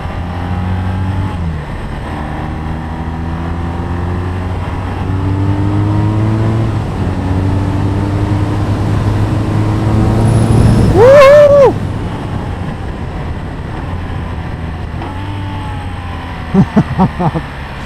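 BMW R nineT 2021 Option 719 motorcycle engine pulling hard under acceleration, a steady loud rising drone with stepped gear changes, a brief sharp rev spike near the end and a voice talking over it.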